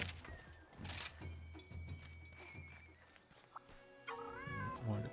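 A cartoonish cat meows several times in the Monster Hunter Rise video game, set over soft in-game music and ambient sounds.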